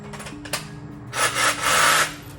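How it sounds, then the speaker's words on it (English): A reciprocating saw rasps through a van floor template, a quiet buzzy start followed by a louder sustained cutting burst in the second half, heard up close. "Put a sawzall on that thing. We are going to sawzall it."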